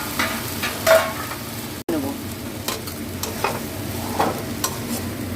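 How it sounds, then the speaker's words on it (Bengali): Crushed fried bori is stirred into a plain cooking dish, with a close, loud sizzle and repeated spatula scrapes and clatters against the pan, briefly interrupted midway. "সেই বড়িটা আমি দিয়ে নেড়ে নামিয়ে নেবো"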